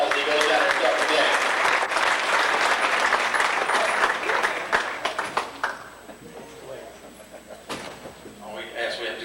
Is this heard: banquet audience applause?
yes